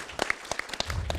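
Audience at an awards nominee event for screenwriters claps for a nominee, a short burst of scattered hand claps that thickens into fuller applause toward the end.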